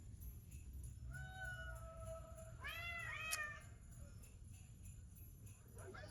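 A cat gives a single drawn-out meow that rises and bends, faint and close against a low, steady hum.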